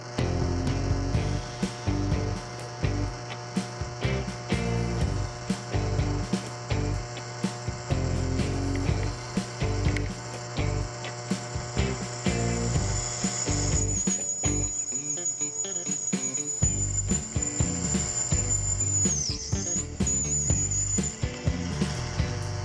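A power drill with a cobalt bit whines and chatters steadily close by, the motor grinding in bursts and then straining with a rising, shifting pitch as it bites into hardened steel.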